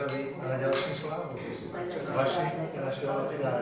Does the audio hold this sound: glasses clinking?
yes